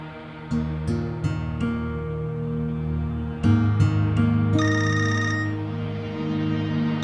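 An electronic phone ringtone plays as a repeating melodic pattern of tones over a steady background hum, moderately loud and close, with no talking.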